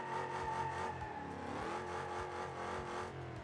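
A Dodge Challenger with a 6.4 392 Hemi V8 and six-speed manual revs in the BeamNG Drive driving game, a steady droning engine note that rises and dips slightly, fairly quiet and alone.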